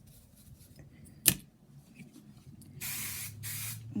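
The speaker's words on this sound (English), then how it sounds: "And just give it a little bit of spray." Hairspray hisses onto hair that has been back-combed into a messy bun, starting with one short sharp burst and followed by two longer sprays up close.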